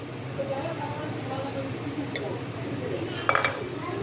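Prawns being hand-mixed with salt, a little sugar and mustard oil in a bowl, a steady soft squishing and stirring with a brief utensil clink near the end, close up.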